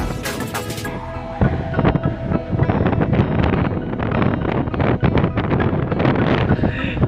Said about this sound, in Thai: ลมแรงมากจริงวันนี้